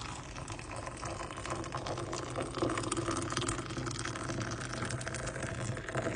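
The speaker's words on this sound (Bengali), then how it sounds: "সো এখন গরম পানি ঢেলে দিচ্ছি" Hot water poured into a cup of packaged chicken soup makes a steady, close splashing rush that fills the whole moment without pause.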